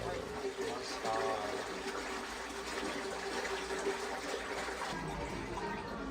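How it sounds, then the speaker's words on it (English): Water gushes and fills the tub of a Japanese human washing machine, a steady rushing, sloshing wash throughout at moderate level, with faint talk underneath. "Water is slowly coming inside now."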